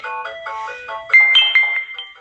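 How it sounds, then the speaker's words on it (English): A phone ringtone plays loudly and close, its electronic melodic tones repeating in a steady pattern, with no talk over it. "Not answering that phone."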